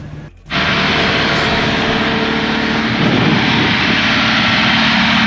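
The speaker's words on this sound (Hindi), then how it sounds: "बोलो इंजन ऐसा आवाज क्यों कर रहा है?" A BS6 diesel vehicle engine driving at high altitude in Ladakh during parked regeneration, cutting in abruptly and then holding a loud, steady, roaring drone close up, with no voices.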